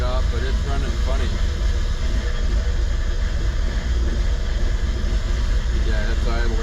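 A car engine on Project Oddball idles roughly up close, a continuous uneven rumble with faint wavering tones, running steadily throughout at a fairly loud level.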